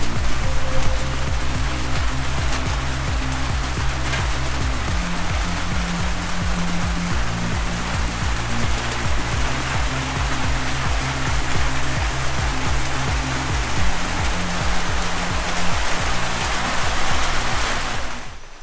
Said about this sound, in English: It's just now starting to rain.